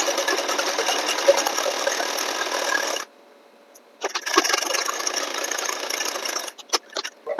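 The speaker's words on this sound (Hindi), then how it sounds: "एक पैर की सिलाई फिर से लगा दें पूरे में" An electric sewing machine stitches a band collar on a kurta in steady, fast runs, a close, even whir for three seconds, a brief pause, then another run ending in short stops and starts.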